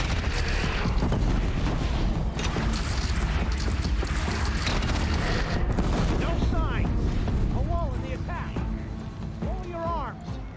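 Rapid gunfire in the action game Horizon Zero Dawn: a dense, continuous barrage of loud shots and booms over busy battle noise, with voices calling out toward the end.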